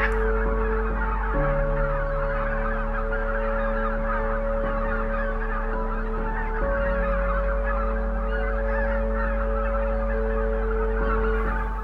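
A large flock of pink-footed geese honks continuously in a dense, overlapping chorus that fills the whole stretch, with no voices over it.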